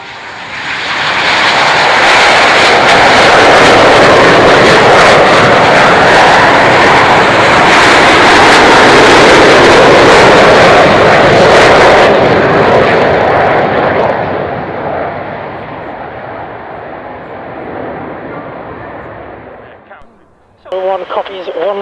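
An Avro Vulcan jet bomber takes off for an air display at Fairford, a loud sustained roar filling the first twelve seconds, then fading; radio chatter is heard near the end.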